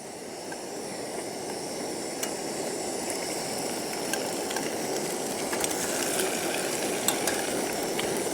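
Spam Friscuit pieces frying in a pan, a steady close crackling sizzle throughout with scattered sharper pops, no voices.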